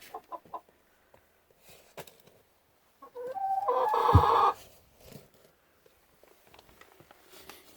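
Chickens cluck softly in short scattered bursts, then one hen lets out a loud, drawn-out squawk before the quiet clucking resumes.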